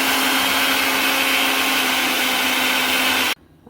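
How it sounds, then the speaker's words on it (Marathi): A kitchen mixer grinder whirs loudly and steadily as it blends a thick paste with added water, then it cuts off abruptly near the end. "आता हे पाणी मी मिक्सरमधनं एकदा फिरून घेते."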